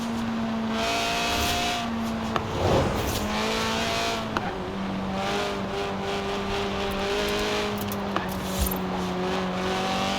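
Lotus Elise Sport 190 with a 1.8-litre, 190 horsepower four-cylinder revving toward 8,000 RPM in Forza Horizon 4, a steady engine drone with rising and falling pitch, brief tyre noise, and no talking.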